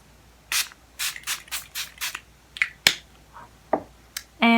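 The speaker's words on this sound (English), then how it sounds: "And I'm just going to use this LA Color Setting Spray again." LA Color setting spray is misted in a quick series of short, crisp spritzes close to the microphone, separated by brief pauses, followed by a few scattered later bursts.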